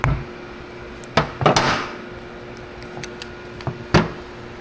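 Sharp metallic hammer strikes on a flathead screwdriver, driving it under a tractor seal, ring out, a few scattered hits with a short flurry, against a faint steady hum.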